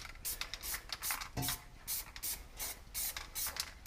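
Spray paint can hissing in repeated short bursts while a night landscape is painted, close and loud, with brief pauses between the sprays.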